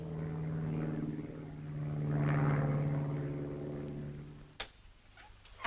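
A propeller airplane drones steadily overhead, a sustained harmonic engine hum that swells toward the middle and then fades, followed by a couple of sharp clicks near the end.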